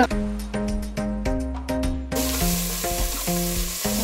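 Onions with fresh coriander and mint leaves fry in hot oil for egg biryani, a steady close sizzle with repeated stirring clatters and a sudden louder hiss partway through.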